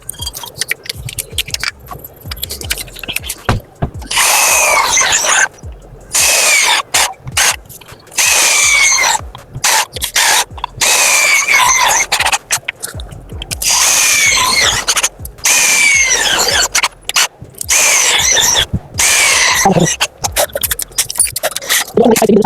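Power drill driving screws into an aluminium-profile glass door for a modular kitchen, several short bursts of whirring and ratcheting close by, broken by brief pauses and clinking of hardware.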